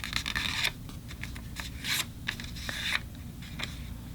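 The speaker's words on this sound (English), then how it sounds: "So we're just going to fold that straight up and crease it in." A sheet of paper being folded and creased by hand for an origami flower, close crisp rustles and sharp scraping swipes in short bursts, with no talking.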